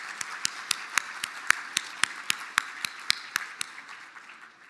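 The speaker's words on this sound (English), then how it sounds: "Let's give one final round of applause for all of our visiting dignitaries today" At a Mille Lacs Band of Ojibwe address, sharp, evenly spaced claps ring out in a slow, steady rhythm of about a dozen and a half hits against a quiet room.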